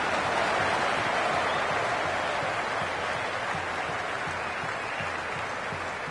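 A cricket stadium crowd at a T20 World Cup match between India and South Africa keeps up a dense, even roar of buzzing and clapping, steady and enveloping from start to finish with no single voice standing out.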